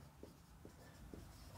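Chalk or marker strokes on a board during a maths lecture, three soft, faint scratches at an even pace over a steady room hiss.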